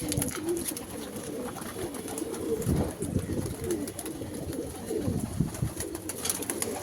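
Male pigeons coo softly in their loft while drinking from their water, low murmuring calls repeating over a faint, steady background.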